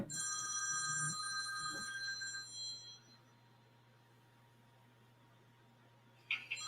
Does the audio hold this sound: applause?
no